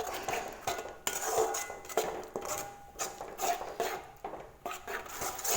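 A spoon scrapes and clinks against a pan in repeated strokes as fresh curd is mixed into egg masala. The stirring is close but fairly quiet, with no voices.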